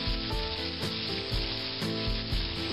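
Chicken pieces frying in hot oil for country fried chicken, giving a dense, continuous sizzle with a crackling bubbling texture that pulses gently, close up and steady with no talking.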